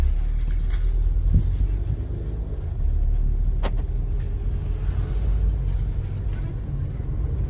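A VW MK7 Sportwagen with a Unitronic intercooler and intake drives along under light load, its steady engine and road rumble constant and fairly loud from inside the cabin, with a brief click partway through.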